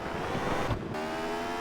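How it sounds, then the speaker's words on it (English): Rally car engine from the PS1 game Mobil 1 Rally Championship, a steady droning buzz with a brief surge partway through, fairly loud and alone. "That engine noise is awful."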